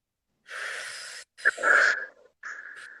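A person draws in a long, audible breath through the mouth and nose, a wheezy inhale broken into several pulls with brief pauses between, close to the listener and with no talking.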